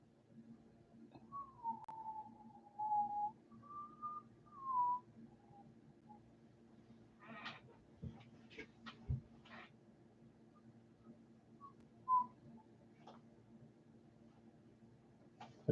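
A person whistles a short wavering tune in several phrases, moderately loud over a low steady hum, followed by scattered clicks and knocks.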